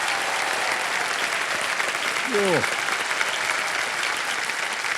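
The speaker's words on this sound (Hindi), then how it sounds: "जोरदार तालियां साक्षी के लिए।" Studio audience on a TV quiz show (KBC) breaking into loud, sustained applause, a dense steady wash of clapping filling the room, with a brief tonal swoop partway through.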